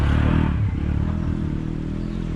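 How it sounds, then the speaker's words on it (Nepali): A motorcycle is ridden over a rough, unpaved village track, its engine a low droning rumble mixed with rattling clatter, close and steady for a couple of seconds. "यहाँ यस्तो बाटोमा मेरो भाइहरूले बाइक ल्याउँदैछन्"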